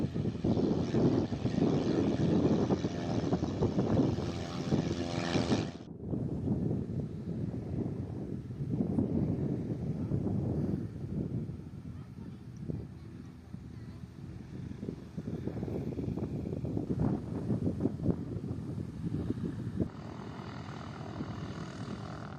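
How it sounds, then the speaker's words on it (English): A biplane takes off from a grass runway at a vintage-style airfield, its propeller engine droning steadily and loudly, dropping abruptly partway through, then continuing at a lower level with some background noise. "Let's watch that double-decker take off."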